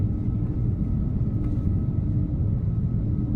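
Deep, steady jet engine rumble from an Airbus A340 in Microsoft Flight Simulator, a continuous low growl with no break, moderately loud throughout.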